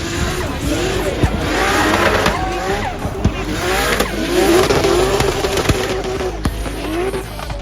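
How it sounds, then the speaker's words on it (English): Drift cars, one a BMW, at a DriftMasters event: engines rev loudly and continuously, with rising and falling pitch and squealing tires as they slide close by, and a commentator's voice runs through. "Cherba fires in, and now, oh, Vincek takes the back end of Cherba's BMW on the"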